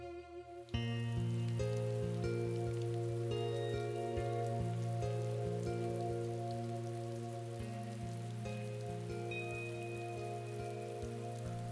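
Steady rain falls continuously for the whole stretch, a dense even patter under a soft musical background with sustained low tones.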